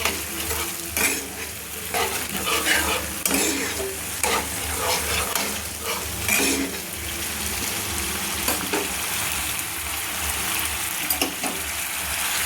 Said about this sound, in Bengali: সেই জলটা আমি অ্যাড করে দিলাম, দিয়ে একটু নেড়ে নিলাম